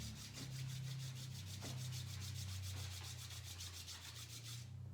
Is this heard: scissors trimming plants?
no